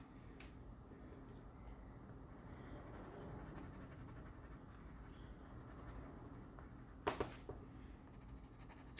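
An orange colored pencil scratches steadily across paper, filling in a drawing with a quiet, close, continuous rasp and a couple of small knocks near the end.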